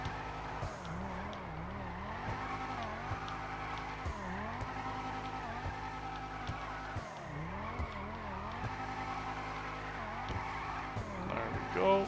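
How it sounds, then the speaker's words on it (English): Car drifting in GTA 5 Online, engine droning steadily with repeated wavering tire squeals as the wheels slide, loud and continuous for the whole stretch. "I'm gonna try and get a decent drift going."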